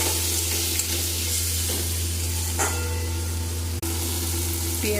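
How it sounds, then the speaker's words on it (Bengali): Onion and tomato fry with salt in a pan with a steady, close sizzle while a utensil stirs and scrapes now and then, and nobody speaks. "পেঁয়াজটা অল্প ভাজা হয়েছে, এর মধ্যে আমি টমেটো দিয়ে দেবো।"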